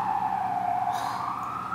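A wailing emergency vehicle siren in Los Angeles rises and holds a steady tone, fairly loud and continuous, with faint traffic rumble beneath and no talk.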